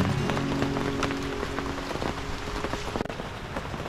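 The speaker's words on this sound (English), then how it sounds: "just watch the rain come down in this beautiful rainforest" Heavy rain comes down on a campsite in the Merry Brook rainforest, a thick, even hiss of drops striking leaves and surfaces. Close, loud, and continuous, with a faint low hum under the first half.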